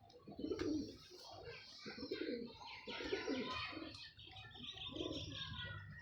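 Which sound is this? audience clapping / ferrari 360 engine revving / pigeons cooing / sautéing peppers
pigeons cooing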